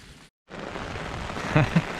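Rain falls in a steady broadband hiss, close and fairly loud, cut by a brief silent gap early on and topped by a couple of short splashy knocks near the end.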